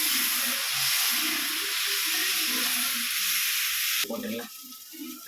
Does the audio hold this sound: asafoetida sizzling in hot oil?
yes